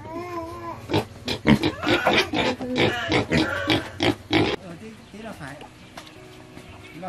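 Pigs on a village farm in upland Vietnam grunt in quick, loud bursts close by, with rhythmic snorts and shuffling, while a person talks over them.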